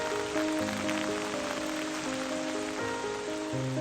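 Steady rain falling on surfaces in a dense, continuous hiss, with sustained musical tones running underneath throughout.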